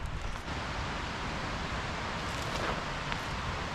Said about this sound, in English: I can hear the sound of rushing water